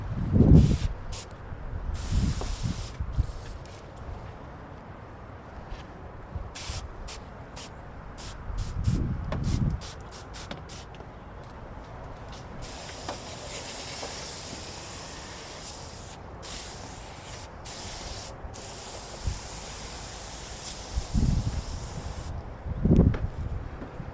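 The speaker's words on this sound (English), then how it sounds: "I'm just spraying extra on certain areas." Cleaner is sprayed onto a 7-Up keg being detailed outdoors, in repeated bursts of hissing spray separated by pauses, close and steady, with occasional low thumps and rustling between them.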